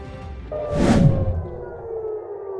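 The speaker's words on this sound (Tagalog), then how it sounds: "ang alingaw ng mga sirena sa Tel Aviv, Israel" Air raid sirens wail across Tel Aviv, Israel, a rising tonal howl with a steady drawn-out note that swells briefly, then settles into a sustained distant whine.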